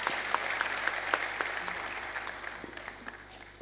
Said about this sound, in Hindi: ज़रा तालियां बजाकर स्वागत करें